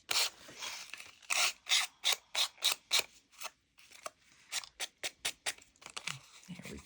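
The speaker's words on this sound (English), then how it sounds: "if we get the emery board, it'll help right along the edge here." An emery board files along the edge of a paper tag for a junk journal, producing a run of short, close, scratchy rasping strokes in a quick regular rhythm, with brief pauses between bursts.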